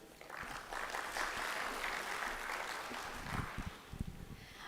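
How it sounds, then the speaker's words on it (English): Audience at the KCIC 4.0 launch event, an African green-transition gathering, claps in a fairly quiet, sustained round of applause heard from a distance and tapering off near the end. "A bigger round of applause there for Mercy, Kimalat, and the team"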